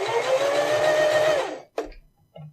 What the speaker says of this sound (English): I'm going to press my foot down to get my sewing machine to work